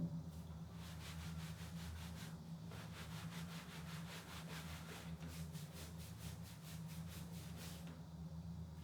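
Something is rubbed close to a RODE VideoMic Pro mounted on a Canon 600D camera, making a quiet back-and-forth scratching that comes in rhythmic bursts over a low background rumble.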